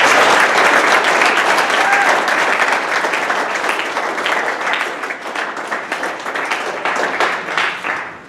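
Sustained loud applause from a banquet audience honoring a high school wrestling team, dense clapping throughout that thins slightly toward the end.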